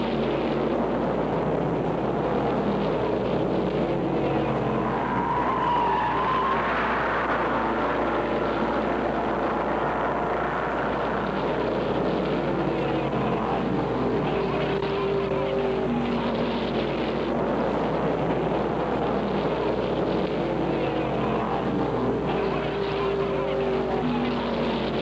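Race cars roar continuously around a twisting, hilly road course in 1963, a dense, sustained engine drone with passing swells, heard as a steady wash without a clear single car.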